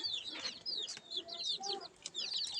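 Chickens kept at a rural home cluck and chirp softly in quick, high repeated calls, faint and nearby with no talk.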